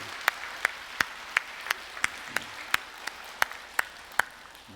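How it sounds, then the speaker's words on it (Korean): A church congregation claps in steady unison, crisp evenly spaced claps roughly three per second, with no talking. "우리 앞뒤 좌우 바라보시면서 한번 박수로 한번 축복하며 우리 격려해 주십시오"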